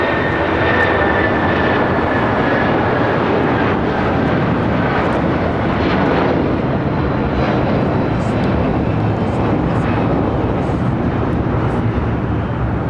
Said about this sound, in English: The United 757-200 taking off.